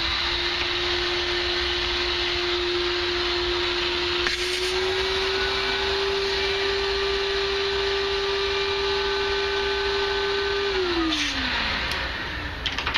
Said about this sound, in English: small shop vac that I like to use a lot. And I'm just going to plug this in.